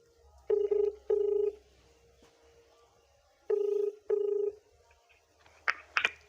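A telephone is dialed to call someone: two pairs of short, clear electronic beep tones in an indoor setting, followed by a couple of faint higher chirps, with quiet gaps between.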